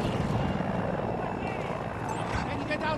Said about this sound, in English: Is that like an AI-controlled helicopter?